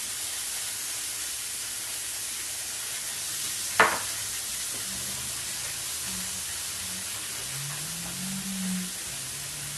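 New York strip steaks frying in a pan with butter, a steady broadband sizzle and hiss running throughout, loud and close, broken once by a sharp knock near the middle, with no talking.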